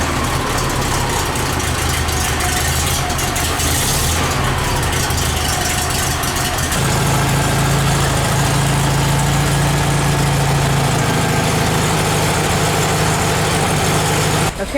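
A classic Porsche 356 engine idling nearby, a steady loud rumble that shifts to a lower, heavier tone partway through, with faint background noise.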